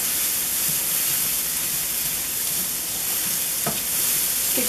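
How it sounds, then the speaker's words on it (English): Shallots and garlic frying in a hot pan, giving a steady loud sizzle and hiss with soft scraping stirs and a few sharper clinks, no voices over it. "Okay, now that this is going, I'm going to add my shallots. And I'm going to add my garlic."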